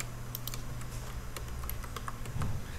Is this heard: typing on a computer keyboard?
yes